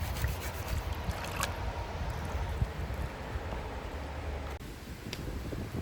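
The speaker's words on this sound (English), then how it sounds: "the wind is blowing pretty good again" Wind blowing outdoors on a cold night, a continuous low rumbling gust buffeting the microphone, with a few faint clicks and rustles over it.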